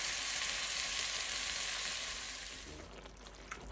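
Chicken curry cooks in a pan over low heat, giving a steady, fairly faint sizzle that thins out slightly toward the end, with no talking.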